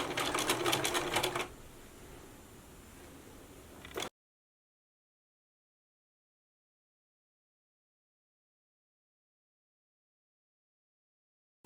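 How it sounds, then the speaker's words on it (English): A sewing machine baste stitches piping in place on a garment, a rapid mechanical chatter for about a second and a half, then a softer running hum before silence. "you're just going to baste stitch that in place"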